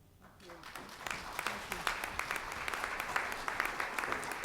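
Audience applause at a diversity forum, dense clapping that builds quickly and holds steady at moderate loudness, with scattered sharper claps throughout.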